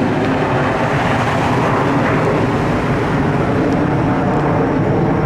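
A loud helicopter or airplane passes overhead, a broad steady roar that fills the whole stretch without letting up, with no talk over it.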